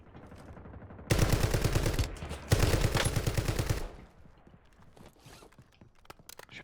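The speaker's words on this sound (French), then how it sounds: "J'ai la mitraillette encore." Submachine gun fire in a video game, two rapid, rattling automatic bursts back to back, loud and close, followed by quieter scattered clicks and game sounds.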